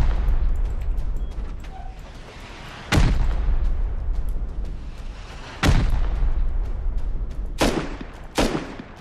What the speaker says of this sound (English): He's launching rockets!